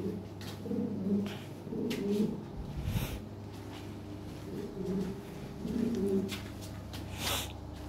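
Pigeons kept for sale coo in low, throaty phrases that repeat every second or two, fairly close and clear over a steady background hum.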